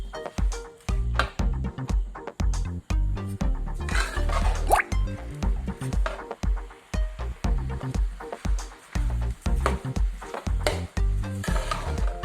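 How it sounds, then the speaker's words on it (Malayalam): A jackfruit snack mixture is sautéed in a pan, giving a steady run of moist sizzling, popping and stirring bursts, close and fairly loud, with no voices. "ഇത് നന്നായിട്ടൊന്ന് വഴറ്റിയെടുക്കാം."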